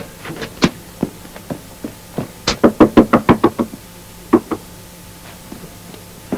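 Knuckles rap on a closed phone booth door in uneven bursts, one flurry of about eight quick knocks in the middle with scattered single knocks around it, close and sharp.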